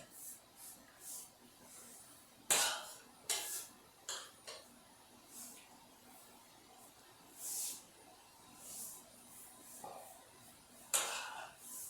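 A spoon scraping and knocking against a cooking pot while moving seared pork pieces for a pork and cabbage slow-pot dish, giving scattered clinks and clatters with quiet gaps between them.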